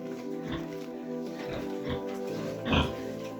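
Pigs on a farm grunt and oink in a run of short, close snorts, with a louder burst near the end over steady background noise.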